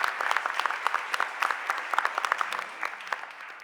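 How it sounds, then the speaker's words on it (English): A city council chamber audience gives a round of applause, many hands clapping in a brisk, crisp patter with distinct individual claps standing out, steady for several seconds before thinning slightly. "Can we give them a real big round of applause first?"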